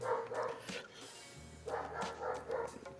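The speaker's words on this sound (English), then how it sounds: "I don't know if you guys can hear the dog, but he wants people to come play with him." An excited dog barking to get people to come and play, several quick barks in two bursts, moderately loud and slightly distant over a low steady hum.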